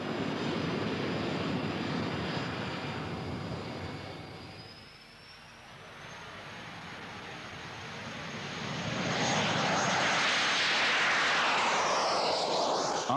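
A Jet Provost jet trainer aircraft, first flown in 1954, drones in flight with a steady engine roar, dipping in the middle before swelling louder with a rising whine.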